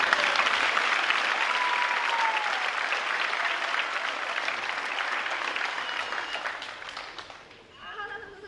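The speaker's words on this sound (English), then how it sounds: "A round of applause for our friends who joined us in safety." An audience at a school promotion ceremony applauds in a broad, steady roar of clapping that slowly fades toward the end, with a voice starting to speak as it dies away.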